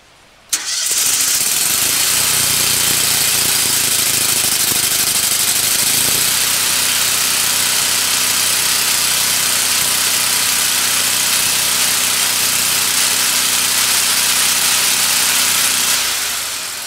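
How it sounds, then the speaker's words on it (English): A Lincoln Ranger 250 GXT engine drive welder fires up after being choked and then runs loud and steady nearby, dropping from high idle to a lower auto-idle drone partway through, with no talking. "When I first started it, I kicked it to high idle, and I kicked it back to auto idle just now"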